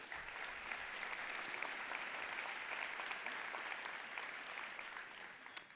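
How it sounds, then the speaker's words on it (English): A conference hall audience at a landscape architecture plenary session claps in steady, dense applause that holds at an even level for several seconds, with a brief flurry near the end and no talking over it. "Big applause for him."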